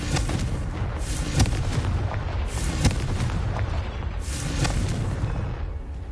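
Repeated blasts from the Confringo fire spell in Hogwarts Legacy, dense booming bursts rolling one after another over a continuous rumbling game soundscape, with no talking.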